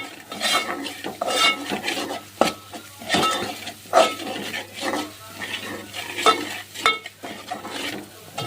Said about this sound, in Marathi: आता सर्व मस्त आपण मिक्स करून घेऊ